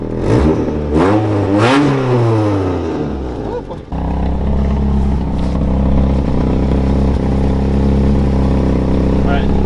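A Toyota AE86 engine is revved up and down in rising and falling sweeps, then drops to a steady, loud idle drone that continues close by.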